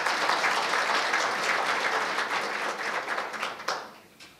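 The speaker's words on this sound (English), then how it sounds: "please give yourselves a warm round of applause for getting yourselves here." Delegates at an academic conference on a South African PhD project clap warmly for themselves, steady applause that thins out and fades into scattered final claps.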